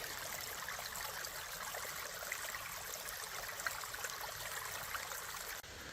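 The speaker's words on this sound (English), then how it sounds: "I think we found Lost Creek." Creek water flows over rocks in a desert canyon at Red Rock Canyon, a soft continuous trickle and rush heard close by, steady and fairly quiet with no voices.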